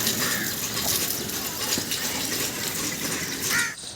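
Water runs steadily from a pipe into cement mortar on a construction site where masons lay bricks, a continuous close gushing stream like a filling tap.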